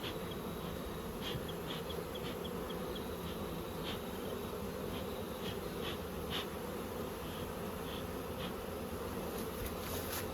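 Honey bees being pushed into a hive box while moving beehives in November, a steady dense buzz filling the whole clip with no talking.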